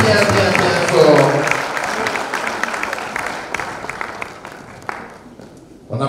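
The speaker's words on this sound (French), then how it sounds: "on applaudit bien fort, on applaudit bien fort" An audience at a French-language school competition applauds the pupils, loud sustained clapping that fades gradually, with a voice speaking over it and a brief burst of noise at the very end.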